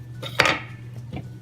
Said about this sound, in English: give it a couple rolls, slice it in half